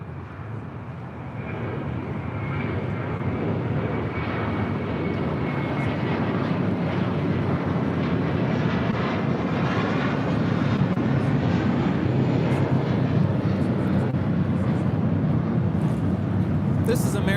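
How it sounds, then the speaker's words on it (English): An American Airlines Airbus A321 takes off at LAX, its roar building into a loud, sustained rush of jet engine noise heard from a distance, with voices talking over it. "This is American 2135 taking off to Orlando, Florida on an A321"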